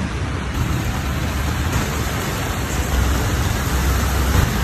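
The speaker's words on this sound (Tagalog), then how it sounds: "Lakas ng ulan." Heavy rain pours down in Quezon City, Philippines, in a dense, steady roar, loud and close, with no let-up throughout.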